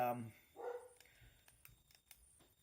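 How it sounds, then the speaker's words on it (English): A dog barking upstairs inside a house, heard muffled and distant: a couple of short, quiet barks near the start, followed by faint scattered household sounds. "I apologize to anyone who can hear our dog right now"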